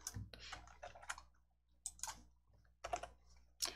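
Keys on a computer keyboard are pressed to save a document with Alt+S, giving a few close, distinct clicking bursts separated by short silences.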